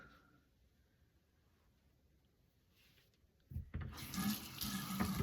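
Near silence gives way to a tap suddenly turned on, water gushing loudly and steadily into a sink for the last couple of seconds.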